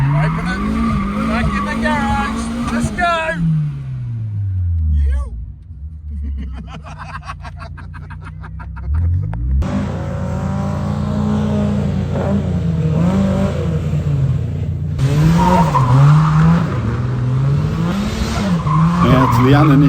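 Cars skid and rev hard around a carnicross course laid out in a car park, engines rising and falling through gear changes with tires squealing through the turns, while voices talk over the noise.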